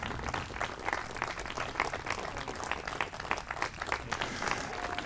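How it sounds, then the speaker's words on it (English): Dense, continuous applause from a concert audience after a wind band performance, steady and moderately distant for the whole stretch with no speech. "give them a big round of applause"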